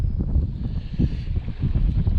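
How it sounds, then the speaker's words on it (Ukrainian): Gusty wind roars and rumbles against the microphone close up at a fishing pond, loud and continuous with low buffeting surges. "Вітер капець."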